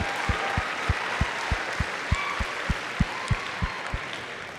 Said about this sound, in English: Let's give one more round of applause for all of our seniors who are involved.